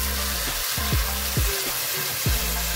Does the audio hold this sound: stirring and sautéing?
yes